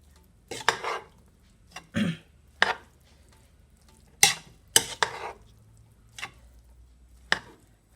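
Prawn fried rice with vegetables stirred in a pan: a spatula strikes and scrapes the pan about a dozen times in an uneven rhythm. The hits are loud and close, with a soft sizzle in the gaps.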